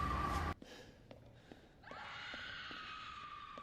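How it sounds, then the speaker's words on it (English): A familiar woman's scream, Meg's from Dead by Daylight, rings out loud and brief at the start inside the castle of Resident Evil 8, then fades into quiet ambient game noise with a faint sustained tone. "When walking around the castle, you could hear this familiar scream in the background."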